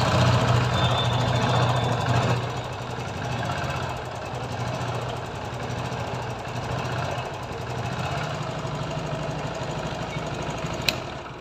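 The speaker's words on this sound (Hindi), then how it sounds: "अब मैं गाड़ी को स्टार्ट करता हूँ और उसके बाद 20 तक इंजन को हिट करता हूँ" A TVS XL 100 BS6 moped with a stalling fault idles with a rapid knocking putter, loud at first, then running on steadily after an ECU reset, with a brief click near the end.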